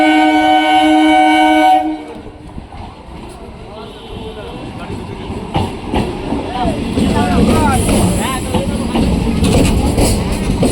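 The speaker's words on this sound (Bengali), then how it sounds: "আমাদের ট্রেন চলে এসেছে" Naihati–Bandel local train arriving at Naihati station: a loud sustained horn blast, then the rumble and squeal of wheels as the train pulls in along the platform, with crowd noise around it.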